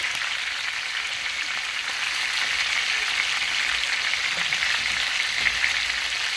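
Skin-on chicken pan-frying gives a steady, even sizzle, a dense crackling hiss that holds level throughout with no voices over it.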